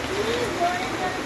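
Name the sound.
heavy downpour rain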